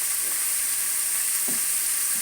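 Steady frying sizzle and hiss from tomatoes sautéing in a pan for fish curry, constant and close, with a couple of faint soft clinks of stirring.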